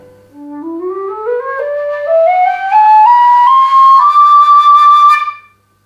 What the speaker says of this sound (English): you'll have a loud whistle.